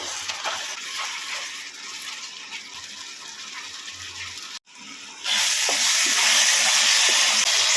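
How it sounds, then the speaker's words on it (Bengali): Tomato frying in a pan for mutton curry over raised heat, a steady close sizzle with occasional stirring scrapes; the frying grows noticeably louder and brighter partway through. "ফ্লেমটা বাড়িয়ে দিয়েছি টমেটোটা যাতে ভালো মতো কষা হয়ে যায়। মাঝে মধ্যে একটু নাড়াচাড়া করে দিচ্ছি।"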